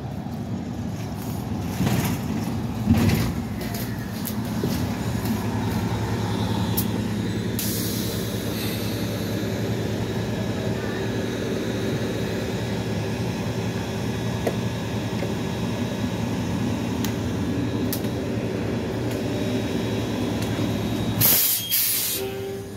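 Silver Line buses passing by on a street, a steady loud roar of engines and hissing air brakes that swells near the end, with no talk.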